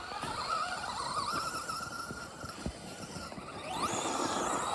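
Traxxas 1/10 brushless RC cars drive through a ditch outdoors, their electric motors whining in rising and falling pitch sweeps over a gritty, rumbling crackle of tyres on dirt, fairly close and continuous.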